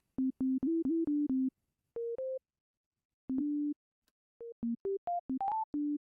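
A plucky synth lead plays a melody alone, short staccato notes in quick runs separated by pauses, stepping up and down in pitch.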